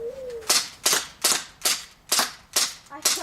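Airsoft gun firing seven sharp, evenly spaced shots about half a second apart, crisp and close, during an outdoor zombie-themed airsoft game; a brief whistle-like tone comes just before the first shot.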